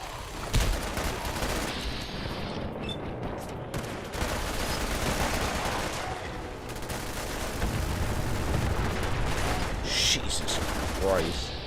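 Rapid bursts of gunfire fill a Fallout 4 battle, dense overlapping shots and volleys running continuously at fairly loud level throughout.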